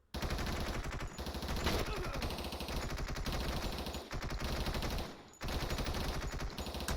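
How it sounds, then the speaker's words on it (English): Unsuppressed machine gun fire in Door Kickers 2, loud sustained automatic bursts that run nearly continuously, broken by two brief pauses. "You notice too, my machine guns don't have suppressors on them."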